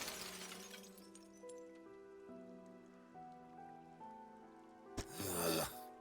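A face-shattering effect from the Lovecraftian fishing game Dredge, a sudden glassy crack and crumbling burst near the end, following a soft descending chime-like musical passage.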